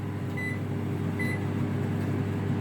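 An oven baking shira hums with a low, steady drone, with two short high electronic beeps near the start.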